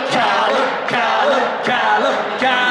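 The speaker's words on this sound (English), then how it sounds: "come on, cheer Callum as well." A crowd at a Pokemon card opening event in London cheers and whoops loudly in a short, energetic burst of overlapping shouts.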